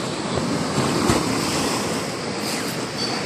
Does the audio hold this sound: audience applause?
no